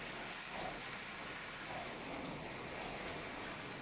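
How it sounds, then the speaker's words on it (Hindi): Steady continuous rain falling in the early morning, a dense even hiss with a soft patter on surfaces, constant in level throughout with no voices. "सुबह 5:30-6 बजे से जो बारिश स्टार्ट हो रही है यहाँ पे, ये देख लीजिए"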